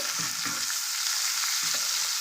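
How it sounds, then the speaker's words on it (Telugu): Onion pieces frying with bitter gourd in a pan, a steady bright sizzle running throughout, with a few soft scraping stirs near the start and one more toward the end, close and alone without talk. "బాగా ఫ్రై అయిపోతాయి మంచి బ్రౌన్ కలర్ వచ్చేంత వరకు ఫ్రై చేసుకుందాము"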